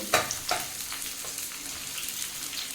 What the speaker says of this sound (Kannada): ಶುಂಠಿ ಮತ್ತು ಬೆಳ್ಳುಳ್ಳಿಯನ್ನು ಫ್ರೈ ಆಗಿದೆ ಅದಕ್ಕೇನೆ ಇವಾಗ ಈರುಳ್ಳಿಯನ್ನು ಹಾಕ್ಕೊತಾ ಇದ್ದೀನಿ